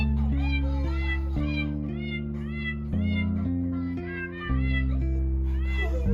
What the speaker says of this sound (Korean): 고양이가 왔어.